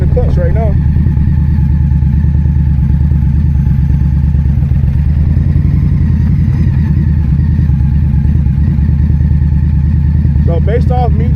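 An Indian Scout Bobber motorcycle pulls away in first gear, its engine rumbling loud and close in a steady low drone throughout, while a person talks over it.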